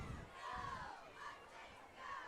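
A crowd at a night high school football game, Mustangs against Pecos, cheers and shouts in short swelling bursts, distant and fairly faint.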